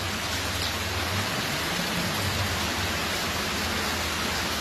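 Dense, steady rainfall with an even hiss, continuous and unbroken throughout, no voices.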